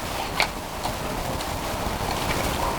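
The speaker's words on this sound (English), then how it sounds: "It's a bit windy out here, so bear with me." Broadband wind rushing continuously across the microphone outdoors, a steady roar with a few brief gust spikes.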